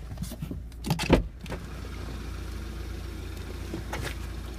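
Electric sunroof on a 2012 BMW X1 AWD 28i, heard from inside the cabin: a click and a short motor whir over a steady low hum, followed by a second faint whir.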